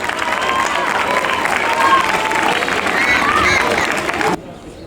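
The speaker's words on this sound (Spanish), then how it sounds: "Un fuerte aplauso para él." Crowd applause and cheering at an Olympic games ceremony welcoming a speaker named Carlos, a steady loud wash of clapping with voices mixed in, cutting off abruptly near the end.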